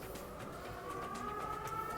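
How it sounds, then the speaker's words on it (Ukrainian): A Ukrainian air raid siren wails faintly from outside a clothing store during a sale, holding a steady, sustained tone over the low murmur of the shop. "повітряна тривога"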